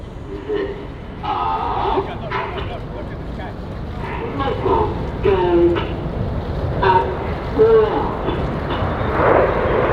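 RAF Red Arrows jets fly past in formation at the Canadian International Air Show, a continuous engine roar under an announcer's loud commentary throughout.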